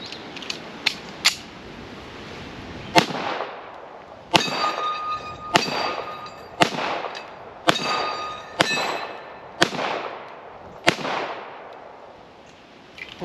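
Shots from a Taurus 1911 .45 ACP pistol fed from a Wilson Combat magazine: about ten sharp, loud reports, the first few quick and light, then a steady string spaced roughly a second apart with ringing decays and no talking.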